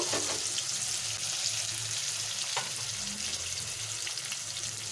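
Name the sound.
mango pieces frying with katla fish in a pan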